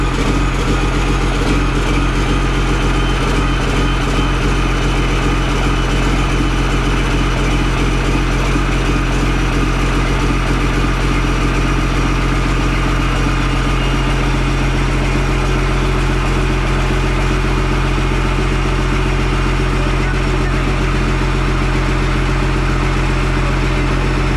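An old truck engine that has sat unused for years idles steadily and loudly up close, a continuous dense mechanical drone with an even, unchanging rhythm throughout.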